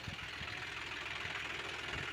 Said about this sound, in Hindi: ट्रैक्टर कंपटीशन चल रहा है जुताई का